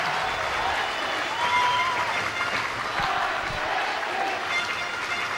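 An excited ice hockey crowd at a Coventry Blaze versus Sheffield Steelers game applauds and cheers in a steady, dense roar inside the arena, with a commentator's voice running over it.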